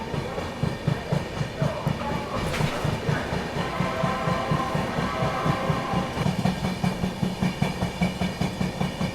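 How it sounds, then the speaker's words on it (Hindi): A Rajdhani Express train rolls slowly through Anand Vihar station, its wheels knocking in a steady clickety-clack rhythm with a low engine hum, heard alone without talk. "धीमे धीमे रफ्तार में आनंद विहार स्टेशन को स्किप कर रहे हैं"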